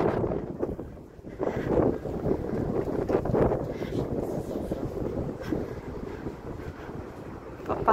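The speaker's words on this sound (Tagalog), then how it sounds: "Lakas ng hangin" Strong cold wind gusting hard against the microphone outdoors, a continuous roaring buffet that swells and dips throughout.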